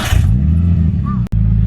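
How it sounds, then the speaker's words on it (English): A Nissan Skyline engine turning over and catching, then settling into a loud, close, rumbling idle with a brief dip where the starter cuts out. "Quickly turn the car on."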